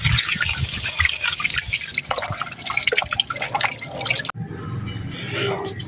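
Water splashes and pours while muddy kinnow mandarins are washed in a village kitchen, a steady close liquid trickle and slosh with a sharper splash near the end, as people talk nearby.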